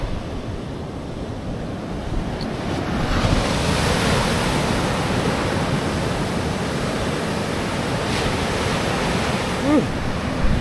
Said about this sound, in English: I fought the waves off for another 25 out there.